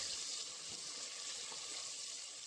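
Vegetables frying in a pan with ginger-garlic paste, coriander, cumin powder, garam masala, mint and coriander leaves for prawn pulao, a faint steady hiss and sizzle with no pauses.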